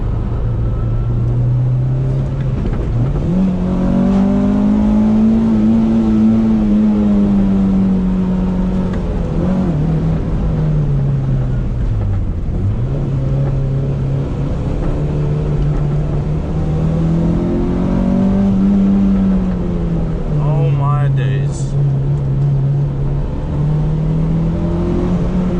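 A Honda Civic Type R EK9 engine revs repeatedly from inside the car on a Japanese course, its pitch climbing through each gear and jumping sharply at the VTEC switchover, loud and close, with a few brief drops between pulls.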